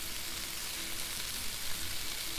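Cod fries in a pan in the cooking game Cooking Simulator, a soft, continuous sizzling hiss that stays even and fairly quiet, with no talking.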